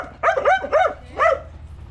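A dog barks four times in quick succession, sharp yappy barks close by, the last coming after a short pause, with no talking over them.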